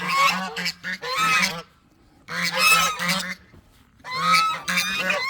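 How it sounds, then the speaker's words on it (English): Geese honk loudly and close by in three noisy bursts of overlapping raucous calls, separated by short quiet gaps. "The geese are always loud."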